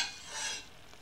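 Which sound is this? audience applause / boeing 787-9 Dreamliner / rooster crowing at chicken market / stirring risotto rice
stirring risotto rice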